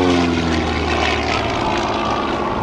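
A fixed-wing propeller airplane flying slow, low-speed turns at an Air National Guard open house airshow in Rhode Island, its loud, steady engine drone filling the air without pause.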